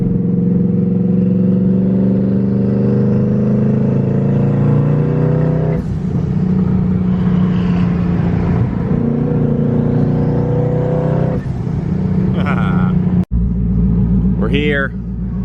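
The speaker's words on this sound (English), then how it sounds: "this car has a 3600 stall converter and it is turbo dumped, so it's loud" A 1000hp turbo Mustang with a 3600 stall converter and a turbo dump rumbles loudly at idle, with rising revs and throaty swells close by, joined by brief whooshing bursts near the end.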